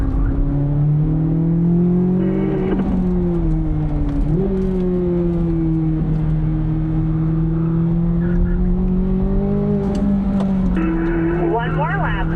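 A Corvette lapping a race track at a driving school, engine droning loud and steady from inside the cabin, with pitch swells as it accelerates out of corners and brief dips between.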